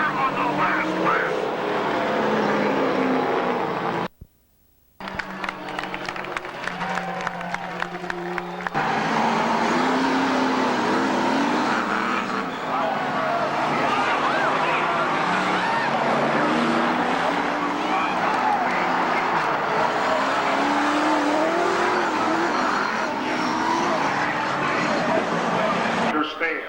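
Race cars roar around the Speedrome oval in close competition, engines droning loud and continuous with passing surges, a brief cut-out near the start, and an announcer talking over the noise.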